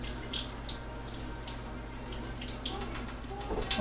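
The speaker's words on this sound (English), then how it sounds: "after running it under cold water" Cold tap water runs steadily over a wooden bow blank, a continuous close splashing hiss with small drips and spatters throughout, heard alone.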